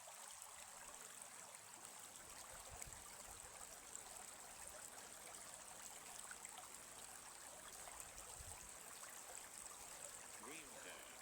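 A stream flows at night with a steady, faint rush and trickle of water running continuously and evenly throughout.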